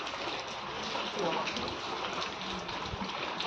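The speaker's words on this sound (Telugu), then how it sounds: "అబ్బా అబ్బా అబ్బా, ఏం వర్షం!" Heavy rain pouring steadily outdoors, a dense continuous wash of drops and splashing without pause, with a faint thud or two underneath.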